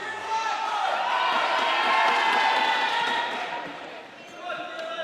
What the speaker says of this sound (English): A fantastic atmosphere from the Scottish crowd.